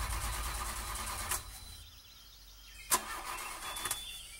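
A car engine turns over with a brief starter churn and then catches, heard at moderate distance with no talking over it.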